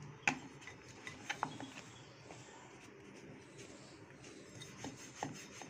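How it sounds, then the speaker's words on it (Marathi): A rolling pin rolls veg momo dough, dusted with flour, into a large sheet, making soft, steady rubbing strokes with a few light wooden knocks, close and fairly quiet. "अशा प्रकारे थोडंसं पीठ लावून घेऊया आणि छान मोठी अशी पोळी लाटून घ्यायची आहे।"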